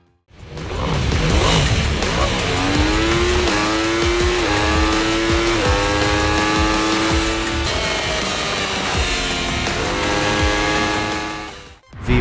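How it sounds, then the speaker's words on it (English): Racing motorcycle engines roar and rev in the VR game VRider SBK, with rising and falling high-pitched engine tones through gear changes, loud and continuous with no talking. "The smell of rubber, the roar of engines, the feeling of your knees flirting with the pavement at 200 km/h."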